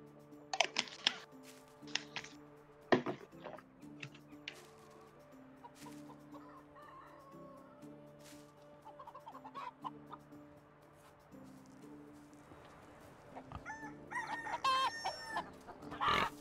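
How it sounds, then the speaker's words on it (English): Roosters in a medieval farming game cluck and crow repeatedly at close range, with sharp calls bursting out at the start and again near the end over a steady harmonic drone of game music. "I just killed a rooster."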